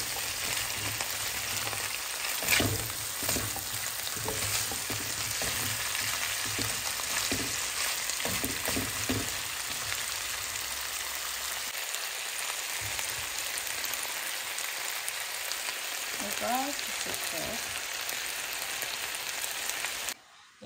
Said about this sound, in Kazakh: Енді осылай болгарский саламыз. Сосын сразу картошкасын салып берейін. Барлығы бірге қуырып.